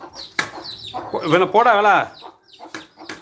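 A brooding hen with her chicks clucks in a series of nasal, wavering calls, close and fairly loud, with a person speaking briefly in between.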